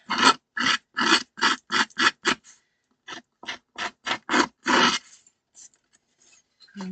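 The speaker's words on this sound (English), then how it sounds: "we're just going to get the snips here and give this a really good scrape" Metal snips scraped hard across card to give a shabby chic distressed finish: a quick run of about seven rasping strokes, a short pause, then six more, close and fairly loud with no talk.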